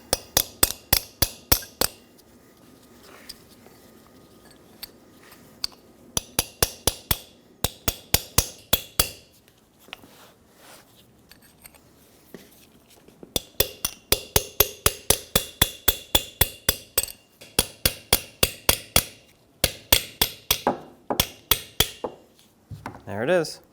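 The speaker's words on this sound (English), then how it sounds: "What I do like to do is just take a chisel and chisel it up and out." Steel chisel struck repeatedly with a hammer to pry out the rear inner wheel hub seal of a 2007-2014 Chevrolet Silverado 2500 HD, with sharp metallic blows in quick bursts and short pauses between them.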